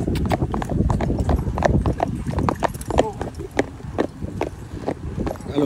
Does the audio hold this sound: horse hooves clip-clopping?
yes